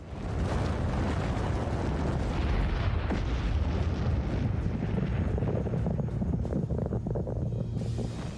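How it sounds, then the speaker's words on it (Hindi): A massive atom bomb blast rumbles as a continuous, loud, low roaring boom that churns and rolls on without letting up, slowly thinning toward the end. "atom bomb"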